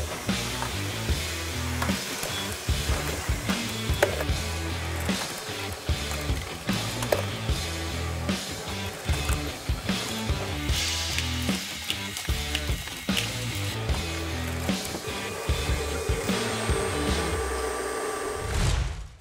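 Dillon CP2000 ammunition reloading machine running with case trimmer and vacuum, a loud continuous mechanical whir over a dense, rhythmic clatter of repeated cycling strokes, close by and without talk.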